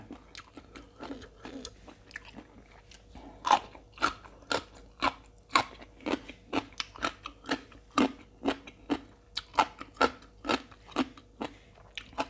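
Crunchy green papaya salad with squid tentacles and crisp Chinese celery being bitten and chewed, loud close-up crunches in a steady, repeated rhythm with no talking.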